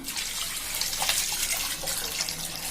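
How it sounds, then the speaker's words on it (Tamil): Water poured from a container onto finely chopped cassava in a cooking pan, a steady close splashing and trickling that runs unbroken for a few seconds. "இதில் கொஞ்சம் தண்ணி சேர்த்துக்கலாம்"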